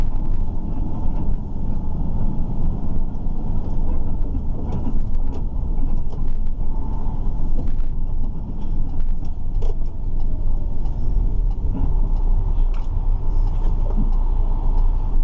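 A truck with a slow-shifting gearbox pulls onto the A12 on a rural road, its engine a loud, continuous low drone heard from inside the cab, building gradually without breaks.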